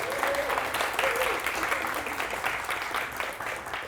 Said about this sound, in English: sharing tonight with Meredith Bergmann, so let's all welcome her with a big Lexington round of applause